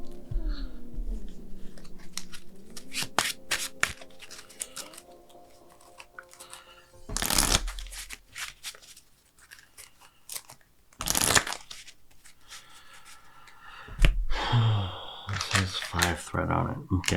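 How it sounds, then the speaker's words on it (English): Playing cards being shuffled into a deck during a tabletop game, heard as two brief riffling bursts amid scattered card handling and table clatter, with voices talking at times. "We put these, shuffle these into the deck."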